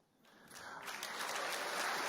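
Audience applause at a televised media debate, starting faint and swelling steadily into a broad, sustained wash of clapping that keeps building to the end.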